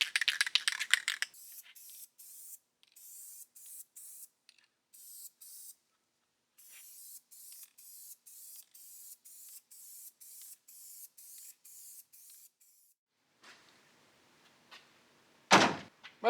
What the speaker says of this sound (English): Might as well go ahead and give the outside of the cabinet a quick spritz too.